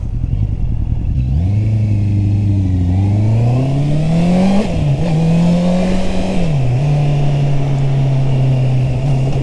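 A Honda CB650R four-cylinder motorcycle accelerates at full throttle, its loud, close engine note climbing smoothly and steadily, dipping briefly between gears, then settling into a sustained high drone.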